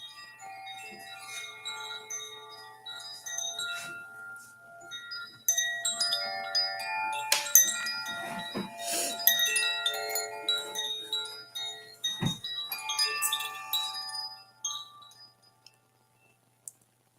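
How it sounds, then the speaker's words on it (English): Chimes ring out in a shimmering cascade of overlapping metallic tones before prayer time, struck repeatedly and swelling in the middle before fading to quiet near the end. "Let me get the chimes. I like having the chimes when we're doing our prayers"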